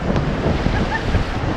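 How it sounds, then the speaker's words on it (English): Waves pound against a boat out on open water, a dense, continuous wash of surf mixed with heavy wind rumble on the microphone, loud and close with no clear breaks. "The battering waves really do make it feel like an adventure."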